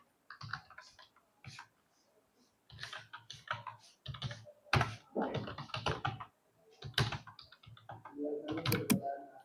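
Someone types data into a table on a computer keyboard: uneven bursts of close, crisp key clicks with short pauses between runs of strokes.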